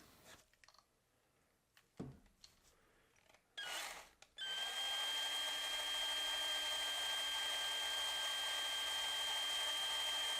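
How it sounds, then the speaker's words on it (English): A power drill whines steadily and loudly for several seconds after a few sharp clicks and handling knocks, its high motor tone holding constant, drilling holes in a Redline Lola GT70 toy car. "A little nerve-wracking drilling these holes when you first start doing this"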